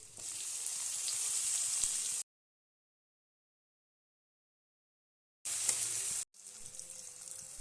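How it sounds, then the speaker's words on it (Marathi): Onion and tomato sautéing in oil in a kadai for a methi chicken gravy, a steady broadband sizzle that stops abruptly for about three seconds of silence and then resumes, with a brief cut near the end. "त्याच कढईमध्ये तेल घालायचं आहे तर त्यामध्ये आपल्याला कांदा आणि टोमॅटो मस्त परतून घ्यायचा आहे"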